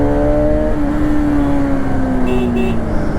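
An eight-year-old Bajaj Pulsar RS 200 BS3 motorcycle engine revs steadily and loudly up close, its pitch rising and then sliding down over about three seconds.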